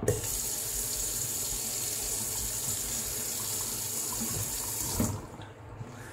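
A faucet runs steadily with a constant hiss of flowing water, then shuts off near the end, leaving faint drips and quiet.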